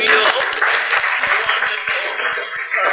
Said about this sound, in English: applaud yourselves